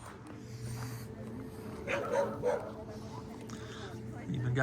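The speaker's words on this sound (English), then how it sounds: "Even got puppies up here." Puppies yip and whimper in the mountains near Lauterbrunnen, Switzerland, with a few short, faint yelps and snorts mixed under people talking nearby.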